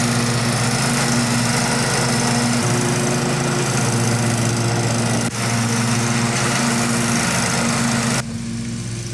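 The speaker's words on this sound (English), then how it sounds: "Then, shortly after that, I mow the lawn." A lawn mower cutting grass drones loud and close with a steady buzzing engine note that wavers slightly in pitch, then cuts off abruptly near the end, with no one talking.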